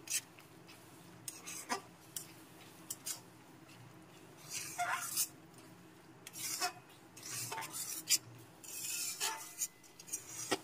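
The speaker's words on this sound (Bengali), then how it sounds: "আবার একটু ভালো করে নেড়ে চেড়ে নিচ্ছি।" A thick cashew and melon seed paste is stirred in a pan for a vegetarian potato curry, giving soft scraping and rubbing strokes with occasional sharper clinks of a spoon against the metal, irregular and moderately quiet, with no talking.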